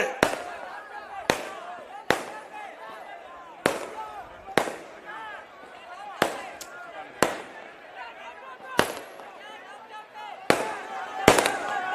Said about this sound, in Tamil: தம்பி எதுக்குப்பா பட்டாசு வைக்கிறீங்கப்பா?